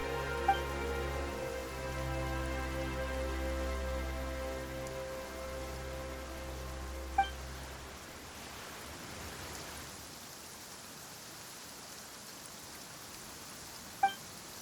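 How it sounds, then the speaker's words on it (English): Rain falls in Genshin Impact as a soft, even hiss of pink-noise-like patter, at first beneath a low sustained musical drone that drops away, leaving the quiet rainfall mostly alone, with a couple of faint sharp ticks. "Why is it raining all of a sudden?"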